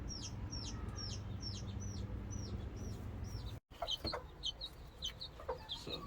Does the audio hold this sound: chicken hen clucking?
yes